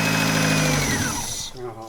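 A Volkswagen Jetta engine cranks and revs loudly close by for about a second and a half, then stalls abruptly, leaving quieter background noise.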